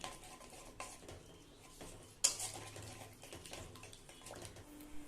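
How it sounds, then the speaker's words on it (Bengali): Soybean and potato curry being stirred with water in a pan: a spoon scrapes and clinks against the pan with soft watery sloshing, one louder clatter midway, fairly quiet and close with no talk. "সব কিছুকে ভালোভাবে নেড়েচেড়ে নিয়ে মিশিয়ে নেব"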